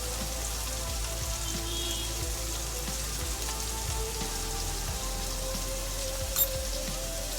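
Onions and curry leaves frying in a pan give off a steady, close crackling sizzle with no one speaking, a dense patter that runs evenly the whole time.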